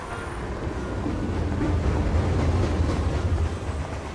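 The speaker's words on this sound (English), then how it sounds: "Though I think there are too many trains going by" A passing train in the noir adventure game Face Noir, a steady low rumble with faint rhythmic rattling of wagons, moderately loud and continuous for the whole stretch with no talk.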